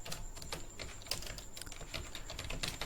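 Keys are tapped on a computer keyboard in quick uneven bursts of light clicks, close but quiet, with a faint steady hum behind them.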